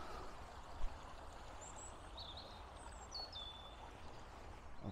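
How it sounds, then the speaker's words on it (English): A stream runs through a large country park, a steady rushing wash of water throughout with faint bird calls above it. "there's a nice stream run through here"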